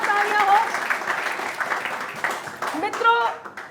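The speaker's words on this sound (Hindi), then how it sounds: "एक बार जोरदार तालियां हो।" An audience at a Hindi poetry recital breaks into loud applause that swells and then fades, with a voice speaking over the clapping throughout.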